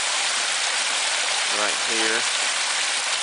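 A stream runs beside cascading waterfalls, a steady broadband rush of moving water that fills the whole clip, with a brief spoken voice partway through.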